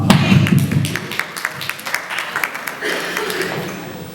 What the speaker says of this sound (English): let's give this brother a round of applause